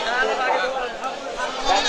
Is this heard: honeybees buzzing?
no